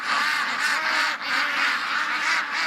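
Ducks calling in a dense, continuous chorus of loud honking quacks nearby, overlapping with no break.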